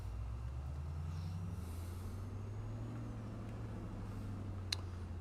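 A Ford pickup truck cruising in the American Truck Simulator game, its steady low engine drone and road rumble holding constant, with a faint click near the end and no voices.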